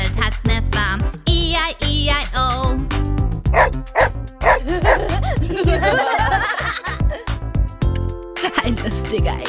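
A German children's farm song with woof-woof dog sounds, likely imitated by voices, set over loud, bouncy backing music with singing and a chuckle throughout.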